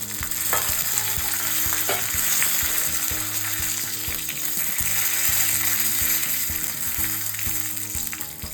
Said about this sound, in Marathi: 2 कढीपत्त्याचे पानं घालून घेते. आणि जिरं मोहरी घालते, आणि 1 मिरची घातली लाल.